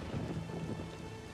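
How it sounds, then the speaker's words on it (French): Stormy weather in The Witcher 3 on PC: steady rain with low rolling thunder rumbling throughout, loud and close, with no voices. "Faut faire quelque chose pour cette tempête."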